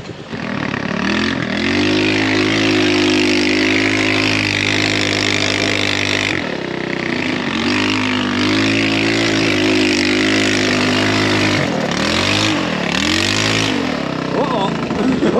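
A go-kart engine revving on the Hells Revenge slickrock trail: a close, loud, droning roar that rises and falls in pitch through several throttle swells, with voices at times.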